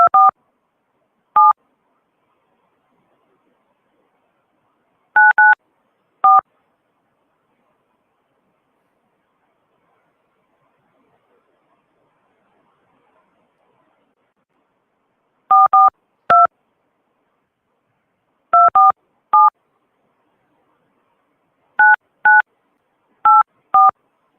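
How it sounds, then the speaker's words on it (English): Telephone keypad tones beep in short separated clusters of two to four clear, loud digits, with long silent gaps between groups. "I was dialing the phone, man"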